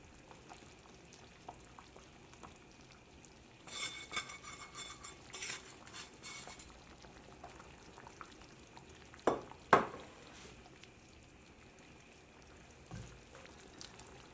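Moong dal lentil soup with tadka is stirred in a pot, a quiet low simmer with a few bursts of spoon scraping and two sharper clinks against the metal, faint and close, no voices.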